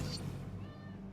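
A single short cat meow, fairly close and moderately loud, over a low steady background hum during a video game session.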